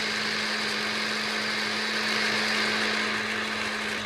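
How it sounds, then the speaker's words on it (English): An electric blender whips two egg yolks alone in the jar, a steady continuous motor whir with a constant hum, unchanging and fairly loud throughout with no talking. "Blender, add 2 egg yolks, and nothing goes with them in the blender."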